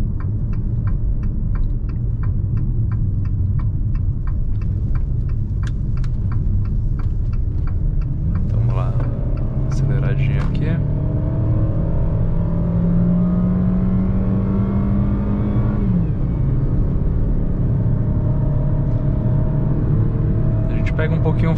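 Jeep Renegade Longitude 1.8 Flex 2020 automatic SUV accelerating on a mountain road, a loud, continuous engine drone whose pitch slowly rises through a gear, then drops at a shift, with a voice heard briefly early on.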